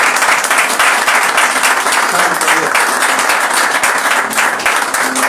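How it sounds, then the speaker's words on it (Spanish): A church congregation applauds loudly in a continuous wash of many clapping hands, while a voice speaks briefly over the applause. "Dale fuerte ese aplauso a Dios."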